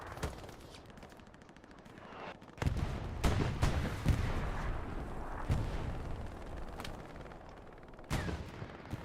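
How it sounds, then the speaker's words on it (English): Incoming tank rounds and artillery in the video game Hell Let Loose: several heavy booming impacts strike over a continuous rumbling din of distant gunfire. "You can hear the tank rounds coming in."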